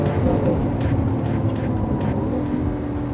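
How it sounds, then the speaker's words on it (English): Lamborghini Aventador (2013) V12 in its most aggressive manual mode, roaring loud and close after a downshift, a continuous deep engine growl with a few crackling pops layered on top, no talking. "The engine is ferocious sounding."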